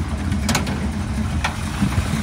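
A Chevrolet SS with a 350 V8 carrying some performance parts idles steadily close by, a low, even rumble filling the short stretch with a couple of brief higher-pitched blips over it.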